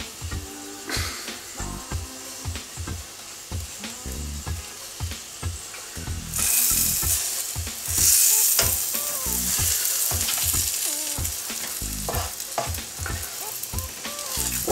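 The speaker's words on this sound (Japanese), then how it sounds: "バターになじませながら だいたい3分ぐらい焼いていきますね" Mushrooms fry in butter in a pan, a steady close sizzle with repeated scraping and stirring strokes, growing louder and more hissing partway through as the pan heats up.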